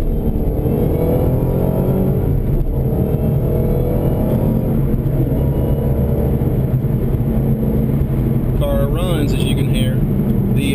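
A 2011 Shelby GT500 with a supercharged 5.4-liter V8 and six-speed manual drones steadily from inside the cabin as it accelerates, a continuous engine roar with a brief whine near the end.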